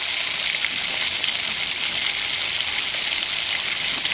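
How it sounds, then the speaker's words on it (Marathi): Cumin seeds crackle in hot oil, a dense steady sizzle of fine pops that runs evenly throughout, close and fairly loud with no talk. "जिरे एकदम असे तडतडले की मग आपण पुढे लसणाची फोडणी द्यायची आणि कांद्याची."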